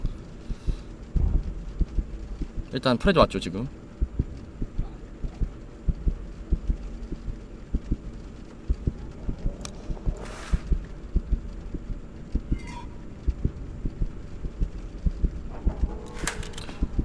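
A pounding heartbeat in the horror game Five Nights at Freddy's 3D, bedroom chapter, thumping steadily throughout over a low hum, with brief game noises and a short bit of speech partway through.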